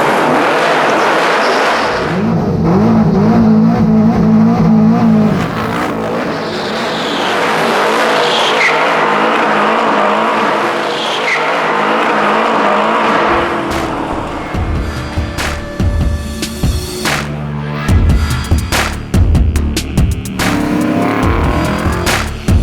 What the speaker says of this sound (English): Finally, 1965 Chevy Corvair race car build.